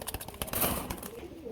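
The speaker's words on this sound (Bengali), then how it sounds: "রাজগোল্লা কবুতর রয়েছে আরেক জোড়া" Pigeons at a breeding farm, giving soft low cooing mixed with light rustling and a few brief sharp sounds, moderately close and faint, with no talking.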